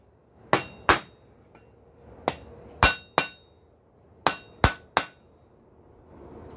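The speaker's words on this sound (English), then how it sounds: "let's take the wooden mallet because it won't deform the metal" A wooden mallet striking a metal hinge pintle to straighten it in a forge workshop, eight sharp, loud knocks in irregular pairs and groups, each ringing briefly, separated by quiet pauses.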